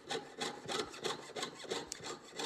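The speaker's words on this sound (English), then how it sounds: "I'm going to pivot my jeweler saw and move forward" A jeweler's saw cuts through silver and paper at close range in a rhythmic series of about eight quick, rasping strokes, evenly paced and clear, with no talking.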